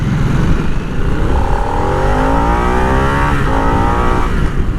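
A Harley-Davidson Nightster motorcycle with a variable-timing engine accelerates hard to 60, its loud close exhaust note climbing through several gear shifts over a constant engine roar.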